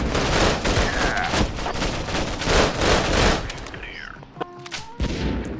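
Rapid gunfire in the Tacticool shooter game, a dense continuous burst of automatic shots for several seconds, then a few mechanical clicks and scattered single shots.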